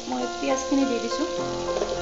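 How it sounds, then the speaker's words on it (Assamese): Onions frying in a pan alongside crab with salt and turmeric, a steady close sizzle and crackle running throughout, with a voice talking over it. "পিঁয়াজখিনি দি দিছোঁ।"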